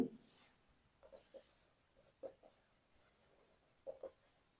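Chalk or marker writing on a classroom board, a series of short scratchy strokes in quick irregular bursts, close and fairly quiet, with no talk over them.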